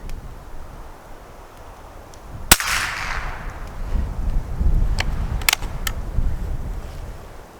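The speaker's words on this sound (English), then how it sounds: "I'm gonna fire off a handful of rounds" A Schultz & Larsen Otterup rifle firing .22LR rounds outdoors from a tripod stand, one sharp loud crack followed by a few lighter snapping shots and handling noise.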